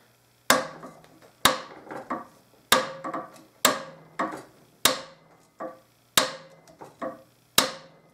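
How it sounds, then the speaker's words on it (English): A Delrin mallet taps dents out of the brass bell of an old cornet during restoration. About a dozen sharp, ringing knocks come in pairs with a steady rhythm, close and alone. "I'm going to use the delrin mallet now. And this is a little heavier and it can take down the dents a little faster."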